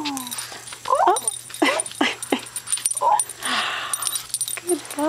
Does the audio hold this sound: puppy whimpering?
yes